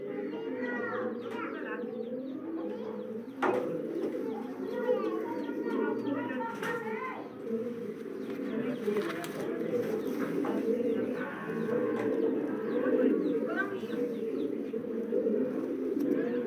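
Low flyer breeding pigeons coo continuously close by, low throaty burbling calls overlapping, with a few brief chirps mixed in.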